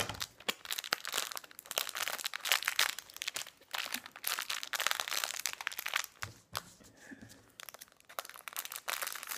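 A small plastic blind bag crinkles and crackles continuously as it is torn open and handled up close, with dense rustling and occasional sharper snaps throughout.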